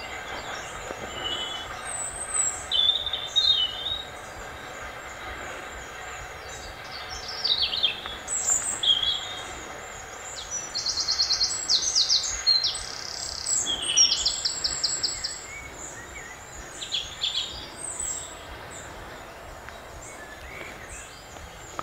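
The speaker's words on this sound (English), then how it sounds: "Just listen to the birds." Birds chirp and trill in bursts over quiet, hushed woodland ambience near Beckbury Hill Fort, several high calls coming and going at a moderate distance.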